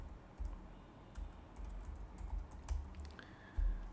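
Quiet keystrokes on a computer keyboard tap in irregular bursts, faint and close, with soft background noise between presses.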